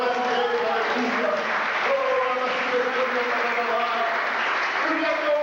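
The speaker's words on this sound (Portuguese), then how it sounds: "Vamos dar mais um aplauso para o Senhor brasileiro, aleluia" A church congregation applauds throughout, a dense, steady wash of clapping from many hands, with voices calling out over it.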